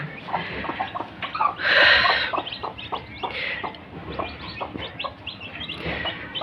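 Domestic hens clucking in a country poultry shed where they lay eggs, with a steady run of short clucks and a louder burst of squawking partway through, close by and alone.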